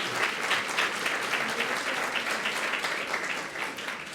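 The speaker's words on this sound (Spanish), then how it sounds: "Aplausos." Congregation applauding during a Sunday Mass, a dense, even roll of many hands clapping at close range that holds steady for several seconds and tapers slightly at the end.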